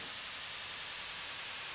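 A downlifter effect in a lo-fi house beat: a steady wash of bright white noise, even and unbroken, with no voices.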